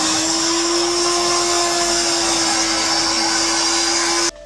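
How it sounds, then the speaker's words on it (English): A hand blender purees cooled masala for kadai paneer, giving a loud, steady motor whine with a constant hum that runs for about four seconds and stops abruptly. "I have to mash with the hand blender."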